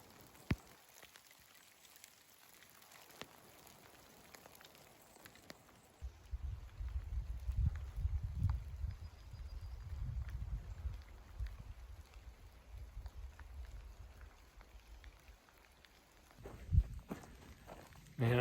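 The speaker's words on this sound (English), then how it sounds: "I really love hiking when there's a light rain like this" Light rain falls on a hiker along the Pacific Crest Trail, a soft steady patter with scattered drops and a few footsteps, quiet at first and then fuller with low rustling for the rest.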